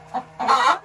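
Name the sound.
hen clucking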